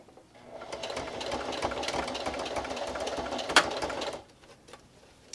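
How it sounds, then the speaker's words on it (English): A sewing machine backstitches a seam on a fabric pencil holder bookmark, one close, continuous whirring run of about four seconds that stops abruptly into quiet. "I'm going to backstitch"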